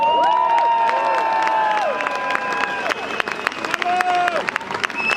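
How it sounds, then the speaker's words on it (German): Crowd at a live Cologne carnival session opening applauding and cheering, steady dense clapping with voices and shouts, loud and close throughout, a few sharper claps standing out near the end. "Wie wäre das denn mal mit so einem richtig schönen tosenden Applaus?"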